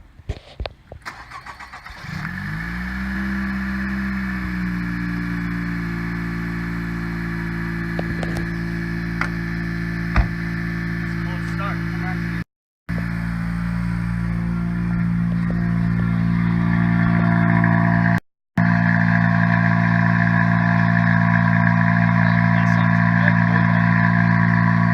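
A 10th-generation Honda Civic fitted with an RV6 downpipe cranks and fires up, settling quickly into a loud, steady idle with a deep droning tone that holds for about twenty seconds, broken by two brief cuts.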